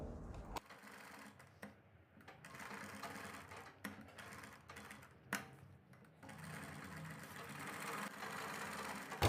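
A sewing machine stitches a collar with stiff buckram interfacing, its needle chattering in quick bursts. Short pauses break up the runs, and the sound is close and moderately loud with no talk over it.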